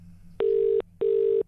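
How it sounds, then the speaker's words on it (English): Ringback tone of an outgoing telephone call, two steady even tone bursts with a short gap between them, clear and alone against a faint hum. "All right, it's ringing."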